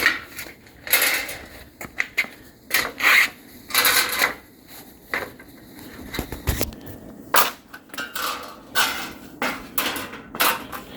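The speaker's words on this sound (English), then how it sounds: "They actually bend straighter just with the foot." Aluminum gutter guard creaks, scrapes and crinkles in irregular bursts as the thin strip is bent and pressed underfoot.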